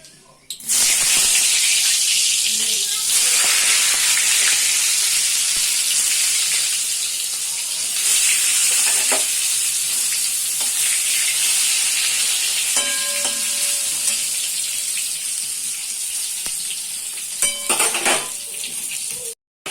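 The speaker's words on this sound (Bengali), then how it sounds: "বেগুনটা আমি তেলে দিয়ে দিয়েছি।" Eggplant frying in hot oil sizzles loudly and steadily for the whole stretch, a close bright hiss with occasional clinks and scrapes of a utensil against the pan.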